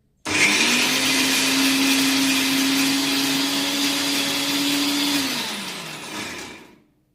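An electric mixer grinder (mixie) whirs loudly and steadily up close with a strong motor whine for about five seconds, then spins down and stops.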